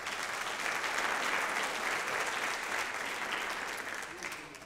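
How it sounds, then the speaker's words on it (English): A burst of clapping from a sizable audience at a college convocation, steady and full for several seconds before tapering off slightly at the end. "Let's give yourself a round of applause."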